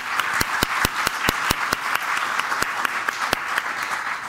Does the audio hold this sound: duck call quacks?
no